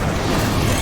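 Incendio fire spell cast in Hogwarts Legacy, a short, dense burst of crackling fiery whoosh with a low rumble, loud and steady across its brief length.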